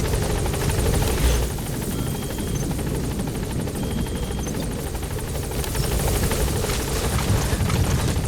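The support helicopter in Metal Gear Solid V chops overhead, a loud steady rotor thrum and engine whine throughout, rising slightly at the start and end, with no voices.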